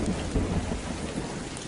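Rain pours steadily in a movie scene with a low rumble of thunder rolling underneath, dense and close with no voices.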